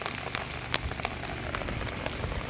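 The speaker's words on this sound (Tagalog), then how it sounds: "So sayo ra gid nag-ulan diri alas 9 pa. Ulan na." Steady rain falls on a surface outdoors at morning, a dense close patter with scattered sharper drops throughout and no one speaking.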